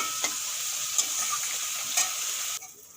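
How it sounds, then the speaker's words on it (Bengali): Prawns fry in a pan, seasoned with turmeric and salt, giving a steady, bright sizzle broken by a few stirring clicks before it drops off sharply near the end. "চিংড়ি মাছগুলো ভালো করে ভেজে নিয়েছি"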